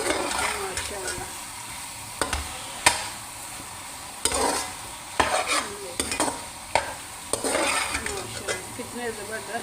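Potatoes and eggs frying in a pan over high heat, with a steady sizzle and repeated scraping and clinking as a utensil stirs them, close up and fairly loud.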